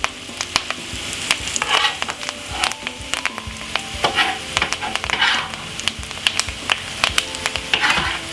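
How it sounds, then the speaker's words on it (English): Garlic, thyme, carrot, mixed pepper and white onion stir-fry in a pan, a continuous close sizzle broken by frequent scraping and clattering as they are stirred and tossed, with no talking. "we're just gonna be frying up these for roughly about 4 to 5 minutes"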